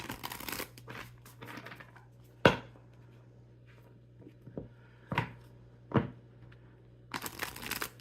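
Oracle cards are shuffled in short papery bursts with sharp snaps between them, close up and fairly quiet, separated by brief pauses.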